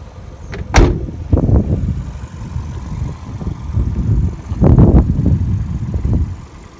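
The rear hatch of a 2000 Toyota Celica GT is handled and shut, a sharp close-up thump followed by softer rattles, then another cluster of knocks and clunks, with no talking.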